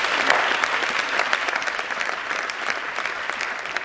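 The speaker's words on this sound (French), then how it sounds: "Est-ce que vous pouvez applaudir pour vous-même" A large audience in a hall claps for itself, a dense, steady roar of applause sustained evenly throughout with no voices rising above it.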